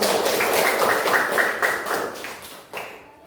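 Classroom group clapping, a run of quick, fairly regular claps from several children close by, ending with a couple of scattered final claps.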